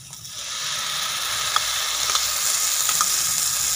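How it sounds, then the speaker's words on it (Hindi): Tomato paste going into a frying egg and macaroni mixture in a pan, giving a steady close sizzle and hiss with a few small pops and crackles, no talking. "अब इसमें टमाटर का पेस्ट शामिल करेंगे।"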